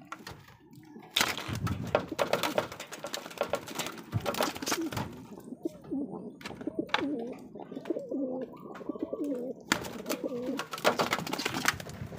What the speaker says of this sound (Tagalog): papakita ko sa inyo ang unang-unang kong kalapate